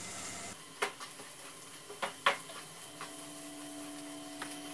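Capsicum masala frying in a pan over a gas flame, a low steady sizzle broken by a few scraping stirs and clinks of a spoon against the pan.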